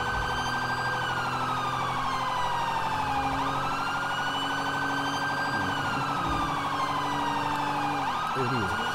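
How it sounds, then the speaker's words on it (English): Wailing police car siren from the GTA FivePD video game, a continuous loud electronic tone sweeping up and down in long cycles over steady engine drone, with no talking. "now we're gonna activate the siren because we are going to go in high speeds"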